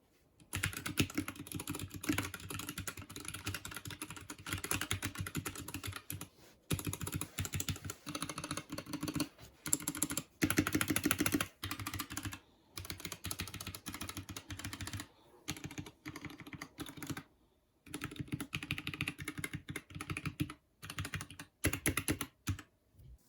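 Rapid typing on a BlitzWolf BW-KB1 budget mechanical keyboard with red linear switches comparable to Cherry MX Red, close up and fairly quiet, coming in steady bursts with a few short pauses and no voices.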